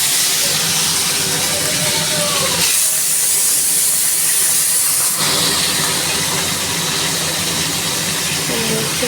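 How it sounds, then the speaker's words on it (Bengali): Prawns sizzle in hot oil in a wok, a loud, dense, continuous hiss of frying that stays steady and close throughout. "চিংড়ি মাছটা হালকা করে ভেজে নেব"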